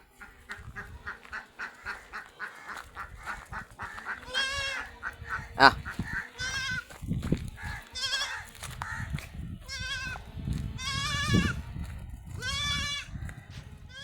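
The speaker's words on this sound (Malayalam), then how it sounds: "ചെറിയൊരു ആടുമുട്ടി മുട്ടനാണ്" Repeated bleating calls from a young male goat kid at a livestock sale, several loud wavering cries over a busy background of cows, buffaloes and other animal noises and rustling.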